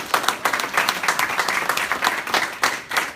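An audience at a Southwest Lansing community meeting breaks into steady, close applause, many hands clapping densely for a few seconds with no talking over it.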